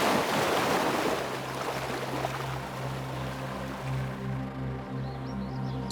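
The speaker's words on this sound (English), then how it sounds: "where the sound of waves, wind, and time blend together" Ocean waves rolling onto the Icelandic coast near a small fishing village, with wind blowing over them; a steady, broad wash of surf that is louder at first, then settles into a continuous roar with gusty wind noise.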